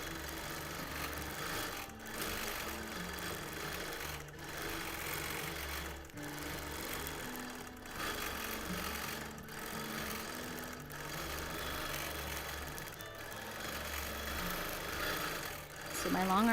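A long arm quilting machine rattles and hums during free motion quilting, a steady mechanical drone with a rhythmic rattle and brief pauses, fairly faint, as a person talks over it.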